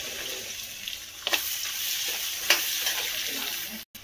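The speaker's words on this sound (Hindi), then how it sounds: "हमारी प्याज भुन चुकी है" Chopped onions and green chillies with whole spices fry in a pan for paneer butter masala, giving a steady close sizzle with a few stirring scrapes, then a brief cutoff near the end.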